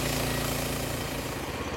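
A Frontier portable sawmill running, a dense droning engine-and-blade noise that stays loud and steady throughout the short stretch.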